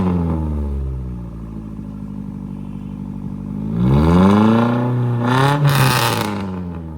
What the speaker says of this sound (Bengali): ভাই, গাড়ির এক্সস্টের আওয়াজ শুনে আপনাদের মাথা নষ্ট হয়ে যাবে।